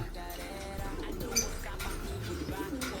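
Pigeons cooing in a loft of prized paired birds, soft low coos repeating over a steady background hum with faint rustling, close and moderately quiet throughout.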